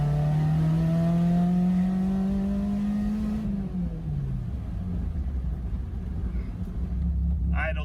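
A tuned Honda NC road car rolls on the throttle in third gear, its engine note climbing steadily and loudly before easing off into a lower rumble with road noise.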